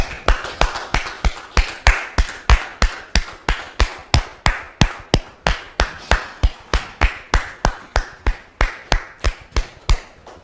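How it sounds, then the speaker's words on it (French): A studio audience claps in steady unison to welcome a guest onto a French talk show. The sharp, even beats come roughly three per second and keep going for about ten seconds, with no talking. "Merci de le recevoir sous vos applaudissements"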